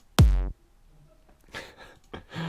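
A single heavy, distorted bass drum hit with a booming low thud and gritty harmonics, followed by faint voice sounds.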